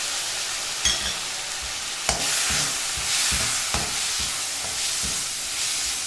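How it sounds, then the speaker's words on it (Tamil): Chopped tomatoes and browned onions sauté in a pan, a continuous close sizzle broken by regular spatula scrapes and knocks every second or so, with no voices. "தக்காளியும் நல்லா வதங்கட்டும்."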